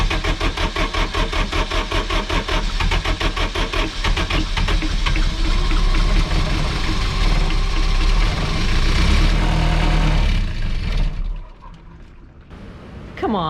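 Boat generator engine cranking and running, a loud rhythmic chugging that settles into a steady rumbling drone, then cuts out near the end and leaves quiet.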